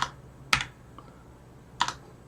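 A few sharp keystrokes on a computer keyboard while a terminal command is entered, about three or four distinct clicks spaced irregularly over two seconds, close and crisp against a quiet background.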